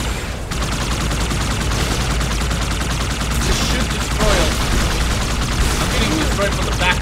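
Sustained gunfire in the Halo 2 Anniversary video game, a dense loud stream of rapid shots running through the whole stretch, with brief speech under the battle noise.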